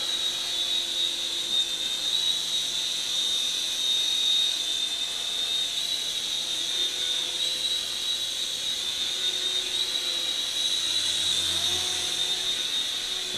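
A small JunHeng J283 RC gunship model helicopter whines steadily with a high-pitched motor tone and buzzing rotor hum, constant and fairly close throughout.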